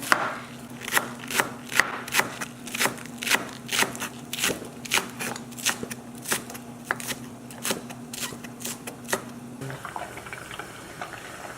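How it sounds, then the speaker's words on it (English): A knife chops green onion on a cutting board in a quick, steady run of close, crisp knocks while a low hum continues behind them. The chopping stops near the end. "so I'm just gonna chop my green onion"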